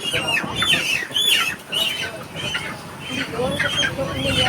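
Chickens on a large poultry farm squawk and cluck in a busy, close chorus, with a few sharp squawks and some wing flapping mixed through a noisy barn background.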